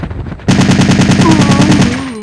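Automatic weapon fired in full-auto mode in Resident Evil 3: Nemesis, a rapid steady burst of gunshots starting abruptly and continuing loud and close for about two seconds, with no talking.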